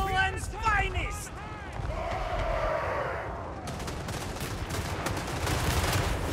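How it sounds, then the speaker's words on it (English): Dense gunfire from a Total War Warhammer 3 battle: a steady crackle of massed shots and impacts under a voice, with the volleys thickening toward the end. "I think you guys are shooting people you're not supposed to shoot yet."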